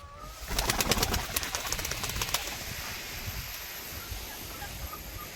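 Kasni Ambal pigeons in a pigeon house give a flurry of sharp wing claps and flapping close by, followed by a softer, lingering rustle and a few faint calls.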